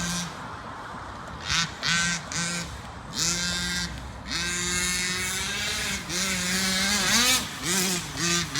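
A Rovan Baja 45cc gas-powered RC car engine revs hard at full throttle outdoors, a loud buzzing two-stroke whine that rises and falls in repeated bursts, with a voice shouting in between.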